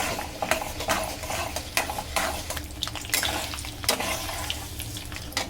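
Mustard seeds and dried red chillies temper in hot oil for Ugadi mango pulihora, giving a continuous crackling sizzle with scraping stirring and sharp pops throughout.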